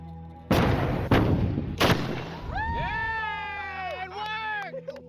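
Duct tape cannon firing an 18.5-pound cannonball outdoors, with a sharp, loud boom followed by further booming reports, then excited voices shouting and talking over the fading rumble.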